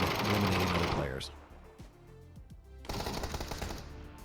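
Rapid automatic gunfire in the PUBG battle royale video game, dense and loud, breaks off briefly for softer clicks and thuds, then resumes in another burst.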